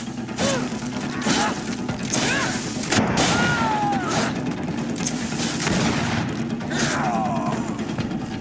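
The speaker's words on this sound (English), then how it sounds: "Watch out! Grenade!" Combat noise from the video game GreedFall, where a grenade goes off in a fight with islanders' captors: repeated crashing impacts and booms sound over steady battle ambience, with brief shouts and clangs in between.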